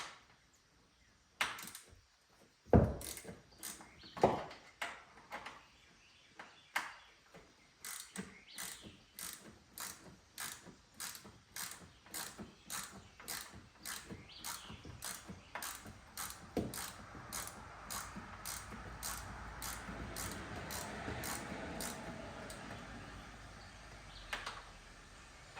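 A hand ratchet loosens a bolt on a two-door Jeep Wrangler. Close, crisp clicking comes in steady bursts, with a few heavier knocks early on, and rises into a fast, continuous ratcheting run.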